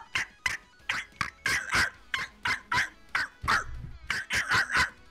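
Dog barking in the video game Watch Dogs Legion, a rapid run of about fifteen sharp, loud barks in quick irregular bursts, close and dominant with no talk over them.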